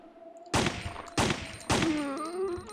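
Three sharp pistol gunshots in Resident Evil 3: Nemesis, evenly spaced about half a second apart, each loud and cracking with a short decaying tail, heard alone without talk.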